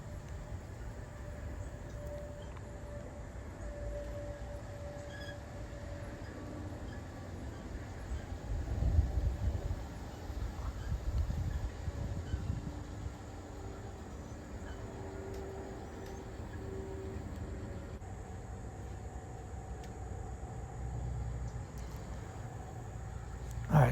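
A small model garden train rumbles steadily along its outdoor track, a low continuous running noise with faint clicks, fairly quiet throughout.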